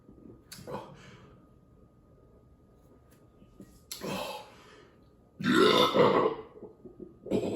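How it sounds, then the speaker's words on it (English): Three separate burps after drinking an IPA beer, a short one early, a second mid-clip and a long, loud, rumbling one near the end, with quiet room sound between. "There's that IPA burp."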